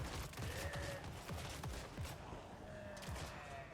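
A volley of handgun fire in a Total War Warhammer 3 battle comes as a dense crackling fusillade of many distant shots over a loud, continuous battle din.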